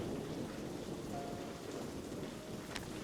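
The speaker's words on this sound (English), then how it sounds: "Anyway, sounds like another storm's rolling in." Thunderstorm in the video game Paper Trail, with a steady dense wash of heavy rain and low rumbling thunder filling the scene continuously, no voices over it.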